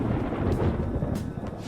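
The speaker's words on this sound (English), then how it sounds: "It sounds like it's going to rain." Thunder rumbles with steady rain in the video game Persona 5 Royal, a continuous deep roll with a wash of falling rain and no voices over it.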